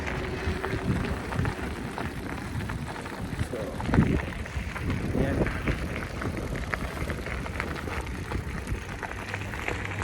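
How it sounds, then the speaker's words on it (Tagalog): Steady rumbling wind gusts buffet the microphone at a lakeside campground, a constant low roar with a couple of stronger bursts, while people talk faintly underneath. "Pasensya na sa hangin ha."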